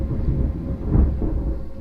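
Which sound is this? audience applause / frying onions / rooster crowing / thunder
thunder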